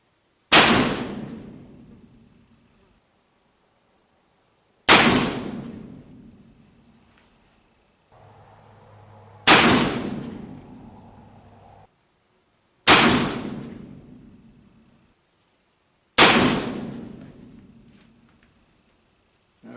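Five loud cap and ball black powder gunshots ring out at a shooting range, evenly spaced about three to four seconds apart, each a sharp crack followed by a decaying echo, with near silence between them and no talking.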